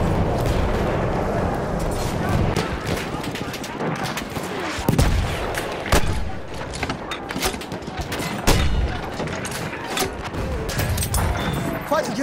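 Automatic fire from an M1918 BAR in Battlefield, a steady dense clatter of rapid shots with a few louder bursts, sustained over continuous battlefield noise.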